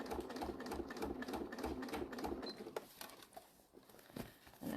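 A sewing machine stitches binding around a fabric bag in quick rhythmic bursts of needle clatter, close and fairly quiet, slowing into short intermittent runs near the end.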